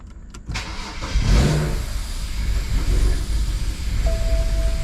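A BMW N54 engine with vacuum leaks starts with a few clicks and catches, then idles loudly and roughly with a steady rumble and a faint sucking hiss, close by.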